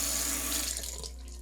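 Water running steadily from a tap into a sink, a brief continuous splashing hiss with low hum beneath.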